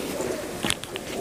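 Nildumma and golden pigeons being released, a brief burst of faint pigeon sounds and possible wing flutter against quiet background, with soft cooing low underneath.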